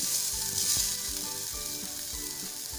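Finely chopped ginger frying in a pan, a loud, continuous close sizzle with faint rhythmic stirring taps underneath, no voices.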